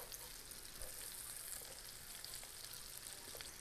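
Red potatoes crisping in a pan give a faint, continuous frying hiss with small crackles scattered across it, heard alone without any voice.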